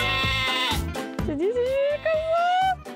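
A goat on a farm bleats loudly and close, a long wavering cry that bends in pitch, over a steady pulsing backing track with a voice mixed in.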